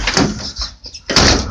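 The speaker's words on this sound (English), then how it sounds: "pretty nice little screen door here" Screen door on a tiny house swinging and banging, with a rattling sweep, a brief lull, then a loud clattering close as the frame strikes shut, heard up close.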